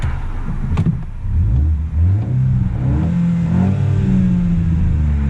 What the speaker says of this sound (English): I want to hear the sound of the car from here.